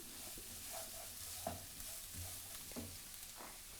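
Sliced fennel bulb and fennel seeds sweat in a pan, giving a soft, quiet sizzle with occasional gentle stirring scrapes and light knocks, steady throughout.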